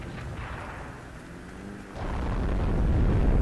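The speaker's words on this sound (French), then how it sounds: "Grenade." A grenade blast in the shooter game Heroes & Generals erupts as a dense, rumbling roar that swells midway and stays loud and sustained to the end, with no speech over it.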